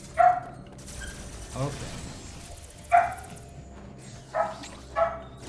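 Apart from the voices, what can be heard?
dogs barking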